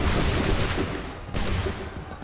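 Musket volley fired by a line of soldiers in Assassin's Creed 3, a loud, dense crackle of many overlapping shots rolling out in two close waves about a second apart.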